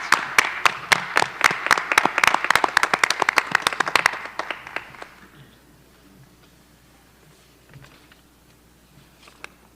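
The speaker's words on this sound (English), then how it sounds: "round of applause for our candidates." A small audience at a board of education meeting gives board candidates a brief round of applause, sharp individual claps at a brisk rhythm for about four seconds before tapering off into near silence with a few stray claps.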